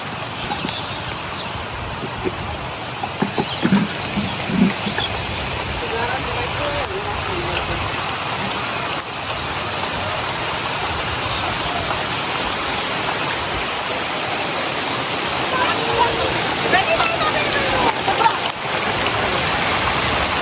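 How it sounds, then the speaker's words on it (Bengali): Heavy monsoon rain falls steadily, a dense continuous hiss that holds at an even loud level throughout. "প্রত্যেকটা দিন অর্ধেক রান্নার সময় ঝুম বৃষ্টি নামে।"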